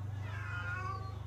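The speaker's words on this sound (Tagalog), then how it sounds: "kukunin ko na yung ating mga pusa" A pet cat gives a single drawn-out meow at close range over a steady low hum, heard alone during a late dinner feeding.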